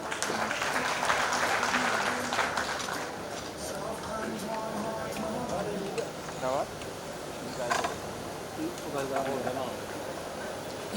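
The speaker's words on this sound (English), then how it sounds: "Let's give him a round of applause" An audience at a Women's Day gathering in Juba claps for a guest, with a steady, moderately loud patter of hands while people keep talking and calling out over it.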